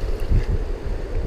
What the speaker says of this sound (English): Trying to keep my back against the wind.